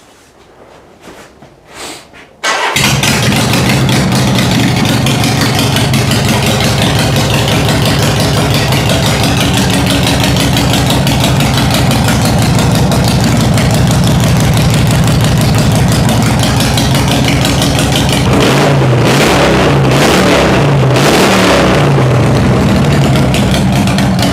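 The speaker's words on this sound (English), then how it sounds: "we'll start the bike up now, see what she sounds like" A Harley-Davidson Sportster fitted with LAF pipes and Screamin Eagle tuning cranks briefly, then fires up and settles into a loud, close, lumpy idle that thuds unevenly, with a few throttle blips near the end.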